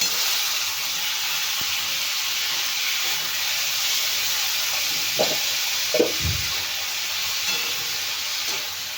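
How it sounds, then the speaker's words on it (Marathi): Tomatoes frying in oil with cumin for a green chilli, carrot and beetroot chutney, giving a steady loud hissing sizzle with a few brief stirring knocks near the end. "तर टोमॅटो पण आपल्याला तेलामध्ये छान भाजून घ्यायचे"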